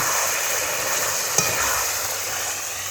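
A spoon stirs mutton curry in a pot, giving a steady sizzling hiss with one brief scrape or knock against the pot partway through.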